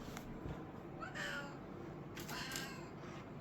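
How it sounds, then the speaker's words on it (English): A pet cat meowing indoors, a few soft, fairly faint meows spaced out over a quiet background hum. "Just my cat saying hello."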